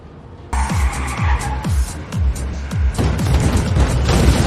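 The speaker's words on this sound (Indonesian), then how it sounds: "sekelompok orang yang mabuk sambil berkendara hingga menabrak bus yang ditumpangi oleh Mansell" A car skids with repeated tire squeals and engine noise, then crashes into a bus, loud and close, with the rumble and squealing continuing throughout.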